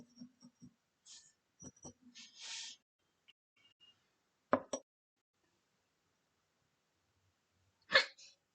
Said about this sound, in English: excuse the hiccups